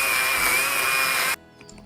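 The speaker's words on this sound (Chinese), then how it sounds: "斧头和电锯配合着用" A chainsaw cutting into wood to clear a stubborn stump on a rough road, a loud, close, steady whine for just over a second that then cuts off abruptly into near silence.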